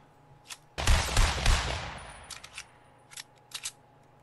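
An AK rifle fires in Fortnite, a quick loud burst of several rapid gunshots that decays into a reverberant tail, followed by a few fainter clicks and shots.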